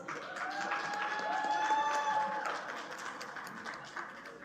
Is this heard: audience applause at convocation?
yes